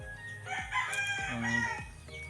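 A young rooster under training crows nearby, a short sequence of harsh rising-and-falling calls over low background noise, with no talk during the call.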